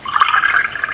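Cream pours into a mixing bowl in a Peppa Pig ice cream maker game, heard as a brief, steady liquid splash and trickle, fairly loud and alone with no talk.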